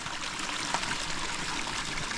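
Water trickles steadily through a rice paddy outdoors, a constant soft splashing stream heard close and alone without talk.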